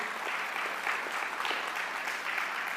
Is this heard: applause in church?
yes